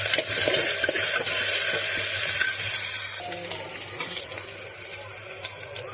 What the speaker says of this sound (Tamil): கருவேப்பிலை எடுத்துருக்கேன், அதையும் இதில் சேர்த்துக்கலாம். நல்லா வதங்கி வரட்டும்